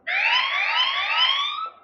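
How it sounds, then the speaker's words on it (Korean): A chat app's default siren notification alert, a short rising electronic wail held steady for under two seconds, loud and clear against silence. "저는 모든 채팅방이 기본 사이렌 소리예요."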